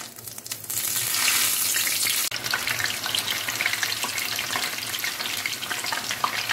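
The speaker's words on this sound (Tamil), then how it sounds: "இப்போ நம்ம நம்மளோட மாசி பருப்பு நல்லா ஃப்ரை ஆகிட்டுருக்கு" Moong dal fries in hot oil, a dense steady sizzle close by that surges briefly at the start, with a soft stir or two and no voices.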